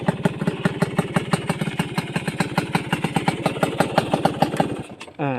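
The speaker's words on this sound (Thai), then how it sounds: "รับฟังเสียงเครื่องประมาณนี้นะครับ" A 1990s Honda LS125 motorcycle engine idles close by with a steady, rapid thudding pulse that keeps going for about five seconds, then breaks off into a short rattling shift at the end.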